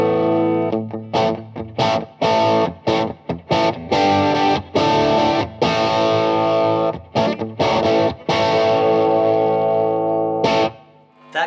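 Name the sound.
electric guitar through Analog Man King of Tone overdrive pedal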